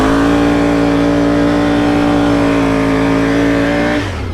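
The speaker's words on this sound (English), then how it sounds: "we cut a little donut real quick" A Can-Am Renegade 1000cc mud four-wheeler revs hard and steady while spinning a donut in a yard, a loud close engine drone that cuts off abruptly at the end.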